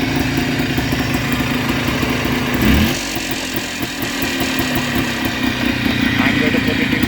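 A 1990 Polaris Trail Boss ATV engine runs steadily in two-wheel drive, a loud continuous motor drone with a brief swell in revs near the middle.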